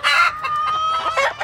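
Local chickens on a poultry farm cluck and squawk close by in a busy, overlapping stream of calls, with bursts of louder clucking at the start and again near the end.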